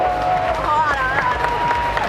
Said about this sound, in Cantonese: 啲掌聲啊，唔好停啊！